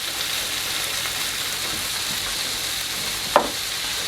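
Tomato passata hitting a hot pan with onions for a vegetarian moussaka, a steady close sizzle and hiss with one brief sharper spatter near the end.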